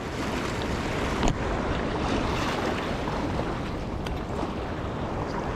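Ocean surf at Malibu beach roars as a constant broad wash, heavily mixed with wind buffeting the microphone, loud and unbroken with no speech.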